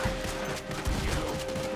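Rapid gunfire crackles in Red Dead Redemption 2, a dense, close fusillade of overlapping shots with brief gaps, accompanied by in-game sound and faint talk.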